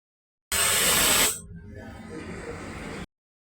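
A pressure cooker holding mutton korma vents steam through its whistle in one close hissing burst about two and a half seconds long, loudest at first and then settling to a softer, steady rush before cutting off.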